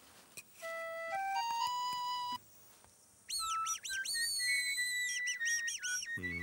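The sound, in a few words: person whistling imitating bird song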